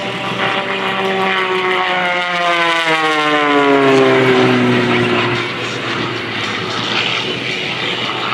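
An aerobatic airplane flies past at the 2024 Leesburg Airshow. The loud engine drone rises and then falls in pitch as the plane passes close by, fading slightly toward the end.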